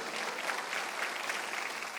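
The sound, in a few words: congregation applauding in church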